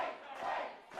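Wrestling audience at a packed shop venue cheering, a brief swelling roar of mixed voices that rises and dips within about a second.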